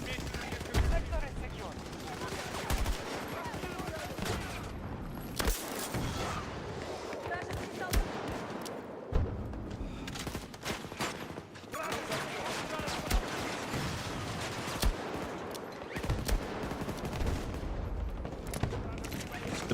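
M5 rifle gunfire in Battlefield 6, repeated sharp shots and bursts scattered across a busy stretch of combat with explosions and ambient noise, heard under ongoing conversation.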